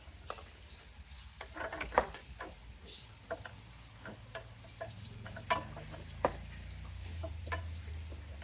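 Prawn curry with curry powder and tomato sizzles softly in a pan at a cooking class in Sri Lanka, while a spoon scrapes and taps the pan in irregular clicks, nearby and fairly quiet, with no talk.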